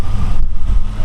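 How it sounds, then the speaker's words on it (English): A 1987 Buick Grand National with its 3.8-liter turbocharged engine, not yet warmed up, idling with a smooth, quiet low rumble that holds steady for about a second. "All right, we have it fired up here for you."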